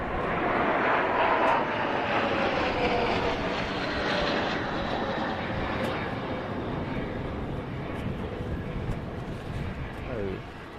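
Military aircraft arriving at the Royal International Air Tattoo break off in pairs to land, producing a continuous, broad jet roar that slowly fades with a faint whine sweeping down in pitch.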